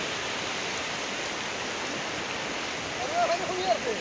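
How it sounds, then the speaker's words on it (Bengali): Flood water rushing across the Hojai–Tumpreng road, a steady broadband roar of fast-moving water filling the whole clip, with a few faint higher tones near the end. "পানি কিলা রোডের উপরে দিয়ে পার হয়"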